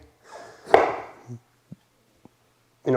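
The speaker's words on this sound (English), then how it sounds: "I'm cutting it into slices like that" A knife cuts zucchini into thick slices on a board, giving a few sharp chops and lighter taps spread across a few seconds, with a brief rustle of handling.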